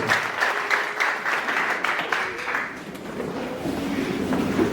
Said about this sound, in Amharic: አጨብጭቡና ቁጭ በሉ።